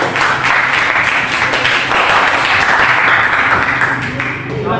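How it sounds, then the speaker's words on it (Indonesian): Sustained applause from a classroom of students greeting group one, dense steady clapping at close range throughout with no pauses. "kita berikan aplaus untuk kelompok satu bersama"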